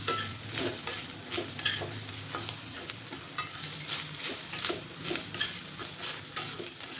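Grated coconut and rice sautéed in a pan for sweet coconut rice, with constant brisk stirring and scraping over a soft sizzle, close by and without talk.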